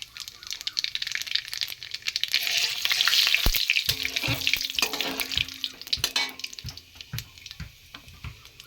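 Dried red chilies and nigella seeds crackle in hot mustard oil, a loud bright sizzle that swells and then settles, broken by spoon knocks and scrapes against the pan, close and without talk.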